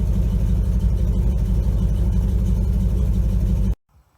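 A 1957 GMC 370 fire truck engine idles close by, a steady low rumbling drone with an even mechanical hum that cuts off abruptly near the end, with no talking.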